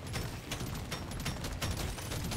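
Rapid bursts of gunfire in the video game Deep Rock Galactic: Survivor rattle continuously in quick succession, dense and fairly close, with no voices.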